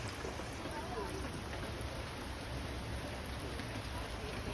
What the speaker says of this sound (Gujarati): ઈથી વધારે થોડોક વરસાદ પડી ગયો છે